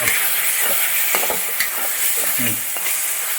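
Kerala-style chicken curry masala with water is stirred in a pan, a loud dense bubbling sizzle with steady scraping of a spoon through the thick gravy, close and continuous, no voices.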